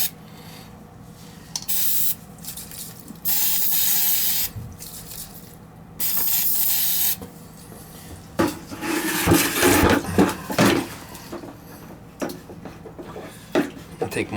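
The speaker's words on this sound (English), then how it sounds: "And then hit the carb cleaner that's in the bottom there and clean it up." An aerosol can of carburetor cleaner spraying onto an oil burner during service, several loud hissing bursts of a second or so each, followed by brushing and scrubbing sounds.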